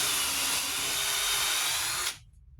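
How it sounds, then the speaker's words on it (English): A power drill bores holes while a night stand is being built, whining loudly and steadily for about two seconds before cutting off abruptly into near silence; no speech. "Actually, these are the first holes drilled by this thing."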